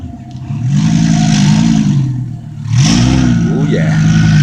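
Audi R8 engine revving close by, two strong surges of rising and falling pitch separated by a brief dip, loud against background road noise.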